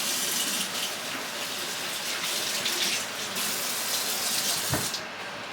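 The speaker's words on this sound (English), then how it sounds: "Let me wash my hands." Water gushes steadily from a kitchen tap while hands are washed after handling raw chicken, a close, continuous splashing stream that stops abruptly at the end.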